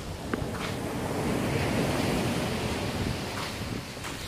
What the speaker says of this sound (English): The Malaga beach.